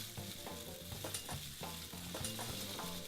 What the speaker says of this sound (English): you want the pan hot so it sears it, because you want to sear the outsides and then turn down the heat